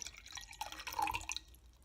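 Sparkling water poured from a bottle indoors, a brief trickling, dripping pour with a few bright splashes peaking midway, fairly quiet and close, with no talk over it.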